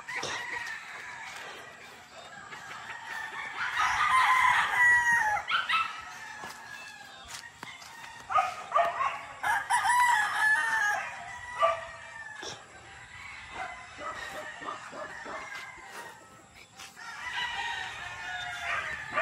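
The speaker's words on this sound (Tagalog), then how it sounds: "Yan po ang mga manok." Roosters crow and chickens cluck on a small farm, several loud crows in bursts at close range with scattered clucks between them, and a dog barks at times in the background.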